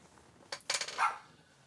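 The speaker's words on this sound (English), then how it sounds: "dog's barking" A dog barks a few times at a distance, short sharp bursts rising over a quiet room with a faint hum, while a model Christmas train set runs on its track nearby.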